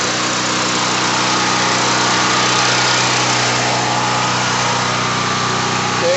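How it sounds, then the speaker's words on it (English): A portable generator engine runs steadily after starting, a loud continuous buzzing drone with a constant pitch and no voices over it. "so we started the generator"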